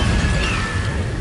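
A Confringo fire spell cast in Hogwarts Legacy gives a loud, dense burst with a roaring whoosh that fills the short moment, close and forceful, no talking.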